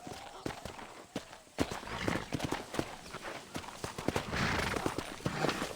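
Horse hooves clip-clop in a Red Dead Redemption western video game, an irregular series of sharp hoofbeats over uneven ground, mixed with rustling activity and a busy background.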